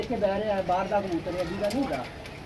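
A pigeon coos softly in low, rolling calls while someone talks over it close by.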